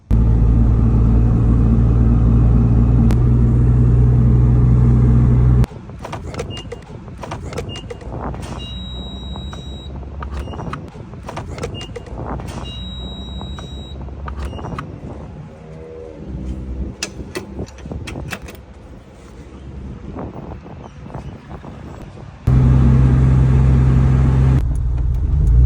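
A supercharged Acura Integra with a swapped J32 A2 V6, M90 supercharger and 6-speed manual, on its first drive, gives a steady loud engine and road rumble inside the cabin, with brief high tones in between.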